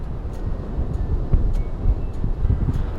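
Wind buffets the microphone on a surfcasting beach during a big, fast tide, a steady low rumble with gusty swells throughout and no voices.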